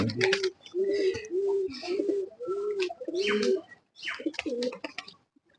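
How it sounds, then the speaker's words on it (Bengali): A Beji pigeon coos up close in a loft, giving a series of repeated low, throaty coos in a steady rhythm, with a few faint chirps and rustles between them. "একটা বেজি কবুতর দেখাই"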